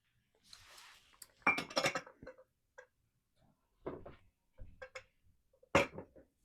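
Casserole ingredients being stirred in a dish: soft scraping followed by scattered clinks and knocks of a utensil against the dish, quiet and close, with gaps of silence between.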